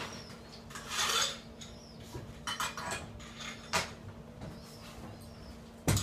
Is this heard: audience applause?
no